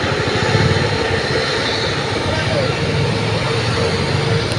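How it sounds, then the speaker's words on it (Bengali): Jet engines of an airliner at an airport blast out a loud, steady roar as the plane prepares to depart for Saudi Arabia, continuous and close. "এই যে ইঞ্জিন থেকে অনেক হাওয়া বেরিতেছে"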